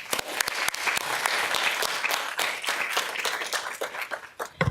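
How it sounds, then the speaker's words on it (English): An audience at a water summit keynote applauds, a dense, steady crowd clapping that holds for several seconds before thinning toward the end. "So, round of applause, please."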